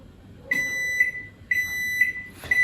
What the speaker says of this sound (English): it will beep once it's done